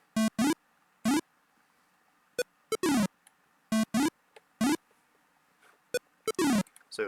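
A small video-game-style synth lead, an SH-101 init tone programmed in quarter notes, plays short bright blips in a sparse rhythmic pattern with silent gaps between them, alone and clear.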